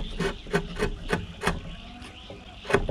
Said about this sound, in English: I have more room to work my chisel. Just gently shaving.